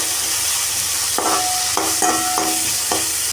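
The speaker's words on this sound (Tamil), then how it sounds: "வெங்காயத்தை நல்லா வதங்க விடணும்." Large onions sputter in oil in a pan for mushroom gravy. A dense, loud sizzle runs throughout, and about five distinct spatula scrapes and taps ring out as the onions are stirred.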